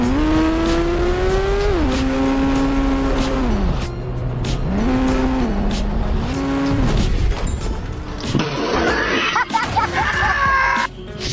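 Race cars launching over shipping containers in a video game: loud engines rev up and down with sliding pitch, tire squeals cutting through near the end, continuous and close throughout.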